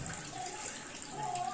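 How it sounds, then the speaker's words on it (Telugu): Water pours steadily into a pot of rice, two cups measured for Karnataka-style biryani, making a continuous splashing rush heard close by at low volume. "2 కప్స్ వాటర్ తీసుకుంటాను"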